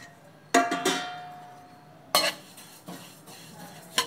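Sesame seeds, 100 grams, stir-frying in a pan on a stove, with a few sharp clinks and scrapes of a metal spoon against the pan and a soft continuous sizzle in between.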